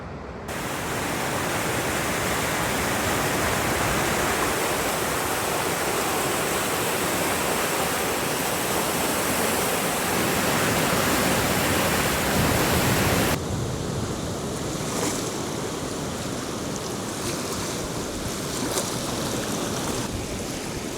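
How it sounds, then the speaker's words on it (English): Water rushing over Beeston Weir on the flooded River Trent, a loud continuous broadband roar that stays steady throughout, with no talking. "I am at Beeston Weir is just behind me"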